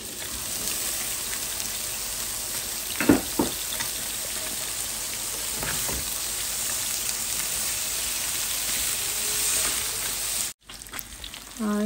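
Thick-cut onion with salt sizzles in hot oil in a pan as the base for a radish bhaji, a steady crackling hiss throughout with a few brief clinks of a utensil stirring, then a short break before the frying resumes.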